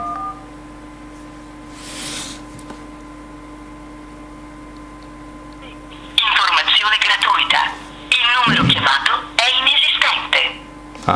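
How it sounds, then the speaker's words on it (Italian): An HTC One X on speakerphone plays a phone call: a quiet line hum and a brief tone, then a loud automated voice answering from the handset's speaker for several seconds. "Volevo farvi vedere anche un po' come si comporta in ambito telefonato, quindi come si sente, diciamo, il volume in viva voce"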